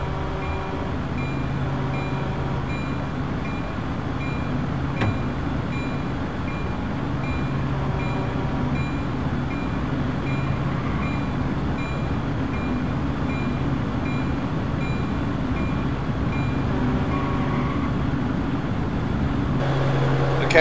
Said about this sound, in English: so in Train Simulator, this is number 4859, which is the locomotive that's in the Harrisburg Transportation Center right now